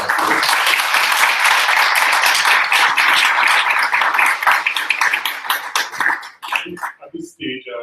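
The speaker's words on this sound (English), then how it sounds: "Once more, I'd like us to give Candace a warm round of applause." A large audience at an angel investor bootcamp in Lagos applauds loudly and steadily for several seconds, then the clapping thins out and a voice begins speaking.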